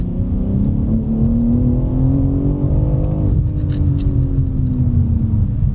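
A performance car accelerates hard, with a steadily rising whine over a constant deep road rumble, heard from inside the cabin and continuous throughout.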